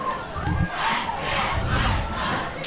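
A crowd at a high school football game roars and yells in a sustained, swelling cheer, loud and continuous, with a few sharper shouts rising above it.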